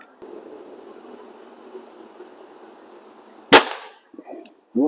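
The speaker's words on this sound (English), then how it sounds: "This will be shot number 4." BSA Airsporter Stutzen RB2 air rifle fires a single sharp, loud crack over a quiet outdoor background with faint insect buzzing, followed by a brief rustle and a soft thump.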